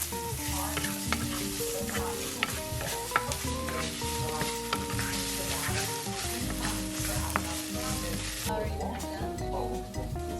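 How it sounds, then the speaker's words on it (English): Garlic and onion frying in a pan with tomato paste, a loud, continuous sizzle carried under steady background music with no spoken voice. "just got some garlic and some onion going on in the pan"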